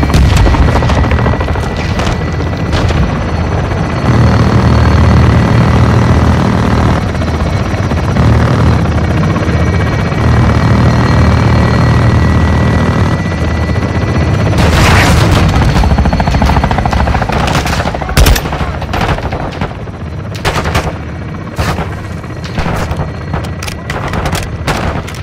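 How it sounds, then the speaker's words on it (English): Aircraft gun run strike in Modern Warfare II: a loud, steady helicopter-like rotor drone, then a cluster of sharp gunfire bursts and heavy booms in the second half, with rumbling between them. "Weapons hot for gun run."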